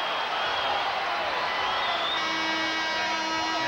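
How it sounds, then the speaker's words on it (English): The Bedford cheering section at a 1989 boys high-school basketball game between Bedford North Lawrence and Lawrence North, heard as a dense, steady gym crowd roar with cheers and whoops, with a voice speaking over it. "That's the Bedford cheering section."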